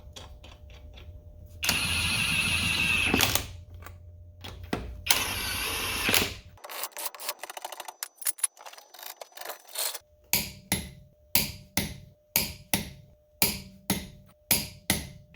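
Lug nuts being run back onto a front wheel of a 2007-2012 Ford Escape, Mariner or Tribute and torqued to 100 foot-pounds: a long buzzing impact-style burst, then a series of sharp, evenly spaced ratcheting clicks, close and loud, with no talk.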